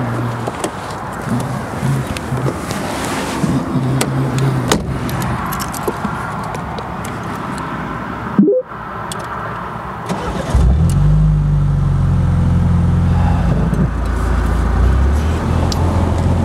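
Keys jangle and a 2024 Morgan Plus 4 automatic starts up partway through. Its engine then settles into a steady, close, rumbling run, preceded by a brief clunk and quieter cabin noise.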